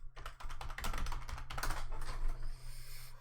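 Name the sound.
loud, angry typing on a computer keyboard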